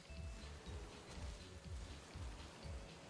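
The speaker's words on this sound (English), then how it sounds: "sounds like rain" Soft, steady rain pattering on surfaces as weather ambience in the video game Pokémon Scarlet/Violet, a faint continuous hiss with a few quiet musical tones drifting through.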